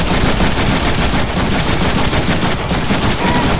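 Heavy chain gun blazing away in the Deadpool video game, a dense, loud, continuous rapid-fire burst that fills the whole few seconds without a break.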